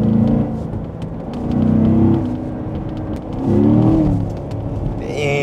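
Car engine revving and accelerating in first gear from inside the cabin: two loud, rising roars with a steadier engine drone between them, and no voices.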